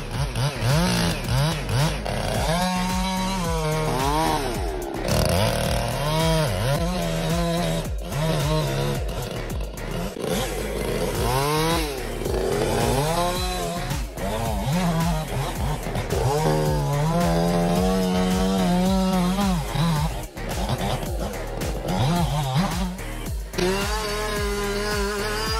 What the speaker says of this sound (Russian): Девушке досталась бензопила с нее ростом